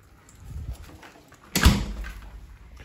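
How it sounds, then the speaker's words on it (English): A door on a workbench setup for testing Mitsubishi Triton 4N15 diesel Denso injectors is pushed shut with a single firm thud and rattle midway, after quiet shuffling handling sounds. "Close this door."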